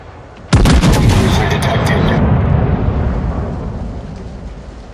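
Heavy battleship main-battery salvo in World of Warships, aboard the Thunderer: a sudden loud boom crashes in near the start, then rumbles and decays slowly over several seconds.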